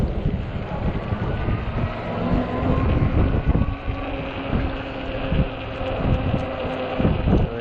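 Wind buffets the microphone during a ride on an Ecotric 20-inch 48V fat-tire e-bike on a cold, windy day, a loud, continuous rumble and roar that rises and falls without speech.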